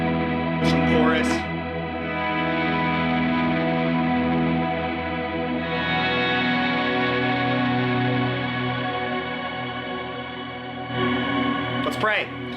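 An electric guitar runs through a chorus effect pedal with no reverb, ringing sustained chords that swirl and shimmer steadily for several seconds, with a few bright pick scrapes and string slides at the start and end.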